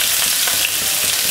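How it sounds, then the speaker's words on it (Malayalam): Onion hits hot oil in a pan for spinach thoran, giving a loud, steady, hissing sizzle close by that lasts the whole moment with no voices. "അപ്പോൾ നമുക്ക് നമ്മുടെ സവാള ഇട്ട് കൊടുക്കാം."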